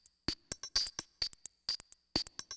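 Sampled drum hits from an E-mu Emax rack sampler, mostly crisp, bright hi-hat and percussion ticks in a quick, uneven pattern, fairly quiet and without talk.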